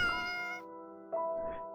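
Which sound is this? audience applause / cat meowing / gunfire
cat meowing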